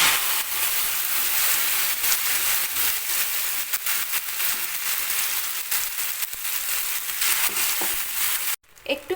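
Spice paste hits a frying pan holding two spoons of hot oil with black cumin and a dried chilli, giving a steady, dense sizzle that runs throughout before cutting off abruptly near the end.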